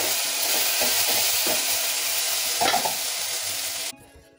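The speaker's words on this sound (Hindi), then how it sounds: "अभी डाल दूँगी लहसुन आलू के साथ, वो मिक्स होकर फ्राई हो जाएगा" Garlic and potatoes frying together in a pan, a constant close sizzle broken by several scraping stirs, then cutting off abruptly near the end.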